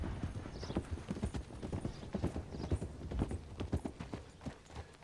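Horse hooves clip-clop in steady, quick rhythm on ground in Red Dead Redemption 2, loud and close, with a faint snort or whinny mixed in.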